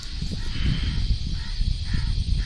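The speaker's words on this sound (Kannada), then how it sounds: "ಪಕ್ಷಿಗಳು ನೋಡಿ, ಎಷ್ಟು ಪಕ್ಷಿಗಳಿದೆ ಅಂದರೆ ಅದೆಷ್ಟು ಸಾವಿರವೋ ಲಕ್ಷವೋ ಗೊತ್ತಿಲ್ಲ." A huge flock of black birds at the Alleppey backwaters in Kerala fills the air with a dense, continuous chorus of crow-like cawing, loud and unbroken over low rumbling background noise, with no talk.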